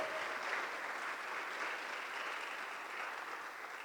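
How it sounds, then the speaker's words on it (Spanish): A church congregation clapping together during a Spanish-language sermon, steady continuous applause at a moderate distance with no voices over it. "Dele fuerte las palmas al Todopoderoso."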